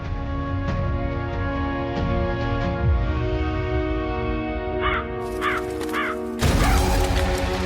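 Many crows caw repeatedly in a flock, harsh calls rising over a sustained droning musical score, growing busier and louder toward the end.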